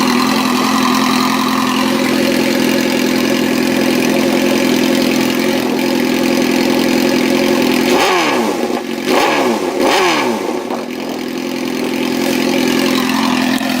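A warmed-up Suzuki GSX-R sport motorcycle idles loudly and steadily up close, then its engine is blipped in several quick, sharp revs that rise and fall before settling back to idle.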